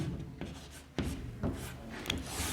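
A teacher writes on a classroom board during a Hindi-medium lesson on measurement, giving a few sharp scratchy strokes and taps spaced across a couple of seconds, close and moderately loud, with no talking.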